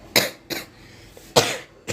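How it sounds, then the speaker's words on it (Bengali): A person who is feverish and ill coughs close up indoors, giving four sharp separate bursts with short quiet gaps between them. "খুব কাশি হয়েছে"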